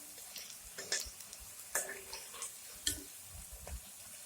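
Garlic leaf pakoras frying in hot oil, with scattered crackles and bubbling pops between several sharper taps and clinks as the fritters are turned.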